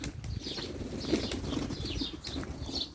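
A white pigeon with a dark tail takes off nearby, its wings flapping in a busy, fluttering burst amid other birds' wingbeats and soft background chatter of a loft.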